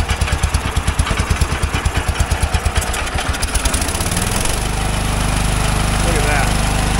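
A Wheel Horse garden tractor engine, revived after sitting unused for years, chugs with a rapid steady pulse that then settles into a smooth, even idle, heard up close and loud.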